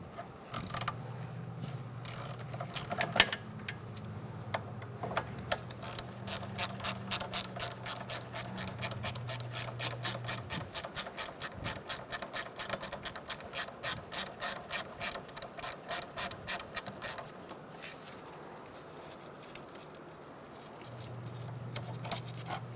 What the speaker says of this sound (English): we're going to use a 12mm socket and take out this bolt for the bracket